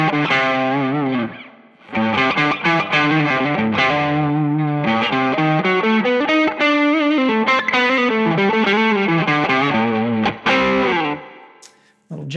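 Lead electric guitar played through a Klon Centaur–style overdrive model on an Axe-Fx III, a blues lead tone with a sustained, singing melodic line that runs almost continuously and loud for the whole stretch, with no talking.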